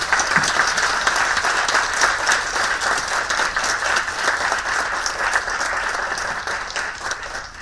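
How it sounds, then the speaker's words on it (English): Audience at an International Women's Day tea-and-chat gathering applauds the panelists, a full, sustained round of clapping that stays loud and even before gently tapering at the end. "how about we give them a round of applause for sharing their questions."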